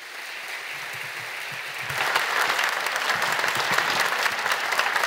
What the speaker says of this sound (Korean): 인사하실 때 큰 박수로 축하해 주시기를 바랍니다